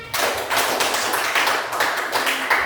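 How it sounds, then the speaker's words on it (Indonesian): Classroom applause breaking out after a Grade 5 Indonesian-language lesson example, a dense, steady patter of many hands clapping at moderate distance for a few seconds. "Tepuk tangan."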